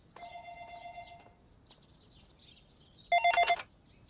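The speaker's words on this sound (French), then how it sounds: "Je vais répondre au téléphone." A telephone bell rings in two separated bursts, a longer ring at first and a shorter, louder one later, in an indoor scene with no talking.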